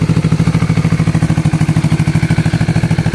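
A 2018 Kawasaki Vulcan S 650 cruiser motorcycle idles close by with a loud, even, rapid thumping pulse that holds steady throughout, with no talk over it.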